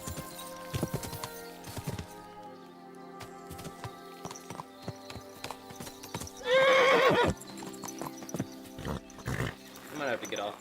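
In the medieval game Kingdom Come 2, a horse's hooves clip-clop steadily and one loud neigh rises midway, with a player talking over the action.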